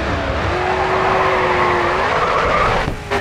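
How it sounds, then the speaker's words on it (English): A racing car drifts in the Grid 2 video game, its engine roaring loudly and continuously while the tires emit a sustained high squeal through the slide. "Let's see a drift."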